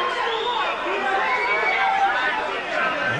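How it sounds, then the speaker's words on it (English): A local boxing crowd at a 1994 bout fills the hall with continuous loud babble and jeering aimed at the referee, a dense, steady roar of many voices with no single speaker standing out. "they're booing the referee, not Hamed"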